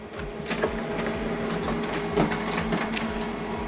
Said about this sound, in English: So now this document is printing.